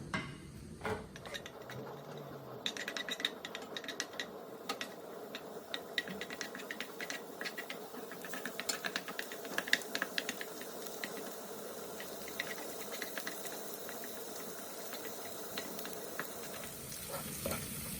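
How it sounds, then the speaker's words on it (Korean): Garlic frying in a couple of spoonfuls of cooking oil sizzles with a soft, steady crackle and scattered pops, quiet and close, with faint stirring ticks throughout. "식용유를 2스푼 정도 넣고 마늘을 볶아주세요."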